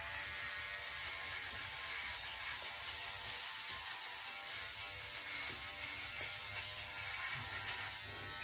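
A Philips OneBlade electric razor shaves against the grain, a faint, steady close buzz with a slight rasping texture that runs on without a break.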